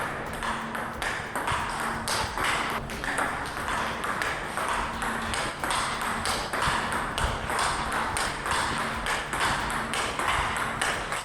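Table tennis ball striking a paddle with Tenergy 05 Hard rubber, a rapid, steady string of crisp, dry pings during rally practice, moderately close, with faint voices in the background.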